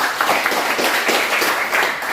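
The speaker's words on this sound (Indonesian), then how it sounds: "Boleh beri tepuk tangan buat Aldo." A classroom of students claps briefly for a classmate during a mathematics lesson on matrices, a short burst of close, even applause with no talking.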